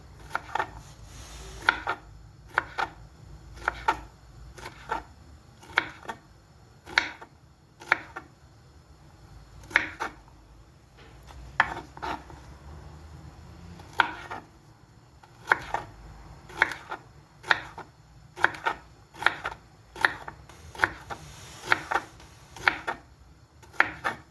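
Steady knife strokes on a cutting board while slicing jalapeño peppers for pickles, close and crisp, coming in quick uneven runs with short pauses between bursts and no talk.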